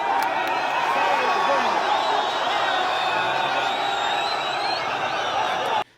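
Large outdoor crowd at a Bobi Wine campaign rally in Arua, Uganda, roaring and cheering continuously with whoops and shouts blending into a dense, steady wall of sound that cuts off abruptly at the end.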